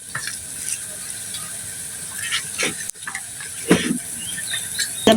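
Green chilies frying in mustard oil in a pan, sizzling hiss with several scraping stirs of a spatula and a clack near the end.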